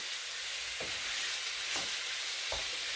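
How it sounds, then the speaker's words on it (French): Faux msemen flatbread gently frying in a pan, a steady close sizzle with a few soft scraping or stirring touches at intervals, no voices. "je vais faire cuire tout doucement"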